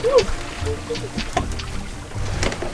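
A sailboat moving through water at about five knots in light wind, with a continuous rushing wash and wind noise against the hull, some faint tones and short knocks, and no clear speech.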